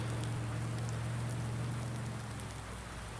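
Steady rain in the Marxville Wisconsin video game, a dense continuous hiss of falling drops with a low hum underneath for the first two seconds.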